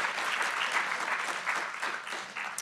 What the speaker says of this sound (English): another round of applause for our wonderful panelists